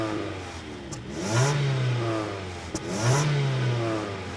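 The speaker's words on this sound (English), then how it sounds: "let's hear what the factory exhaust sounds like." The factory exhaust on a 1998 Acura revs twice, each blip rising from a low rumble to a throaty rasp and falling back to idle, close and fairly loud.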